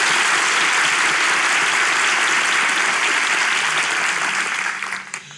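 A studio audience on a Turkish relationship-quiz show applauds loudly and steadily for several seconds before the clapping thins out and fades near the end.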